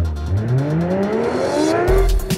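A Lamborghini Murcielago supercar in a racing video game revs loudly, its engine note climbing steadily in pitch through acceleration, then a brief shift or tire squeal near the end, with no one talking.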